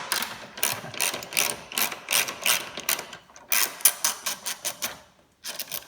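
A ratchet wrench rapidly clicks while loosening headlight bolts on a Ram 1500, with repeated close bursts of sharp pawl ticks in steady strokes, a brief pause, then more clicking.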